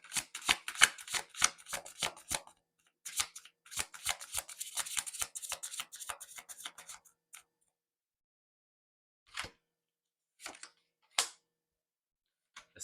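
Oracle cards are shuffled close by in a quick run of crisp ticking riffles, then a second run after a brief pause, followed by a few isolated card taps. No voices.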